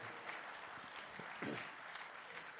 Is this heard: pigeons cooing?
no